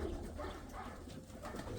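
Pigeons coo softly in a low, throaty, repeated murmur, fairly close but quiet, with no talking over them.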